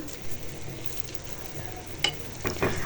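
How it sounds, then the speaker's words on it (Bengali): Egg frying in a pan alongside home cooking of cauliflower pakoras, a low steady sizzle with occasional scraping and clatter of a spatula, moderately close and without voices. "আর এদিকে হচ্ছে যে আমার ননদ ডিম ভাজি করে নিতেছে"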